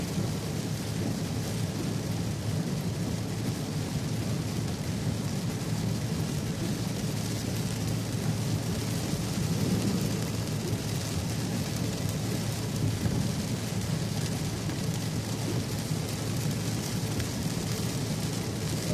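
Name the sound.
rain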